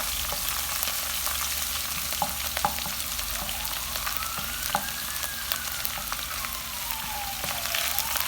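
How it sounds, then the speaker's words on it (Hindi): Chopped ginger and chicken for chili chicken fry in a pan with a steady, close crackling sizzle, dotted with small pops and the soft scrape of stirring, with no voices. "हल्का सा इसको हम फ्राई करेंगे।"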